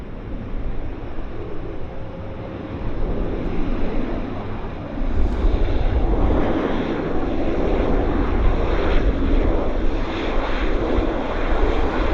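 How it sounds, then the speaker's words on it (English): An aircraft approaches Vancouver Airport, its engine roar a broad, steady rumble mixed with wind noise that swells somewhat louder partway through and carries on continuously without any voices. "we've got our next aircraft. It's setting up"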